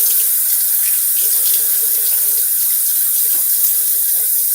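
Tap water runs steadily into a sink while a face is wetted before a wet shave, a constant bright hiss with faint splashes and no speech.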